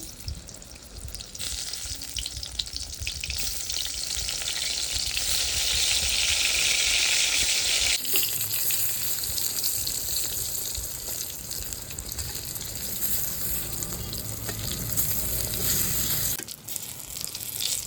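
Eggplant slices fry in hot oil in a home kitchen, giving a loud, continuous hissing sizzle that shifts in texture partway through and cuts off abruptly near the end, with no voices.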